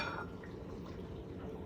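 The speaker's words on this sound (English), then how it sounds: "I'm gonna pour those in." Liquid ingredient poured into a tuna noodle casserole, a steady close splashing and trickling with light drips throughout, no talk over it.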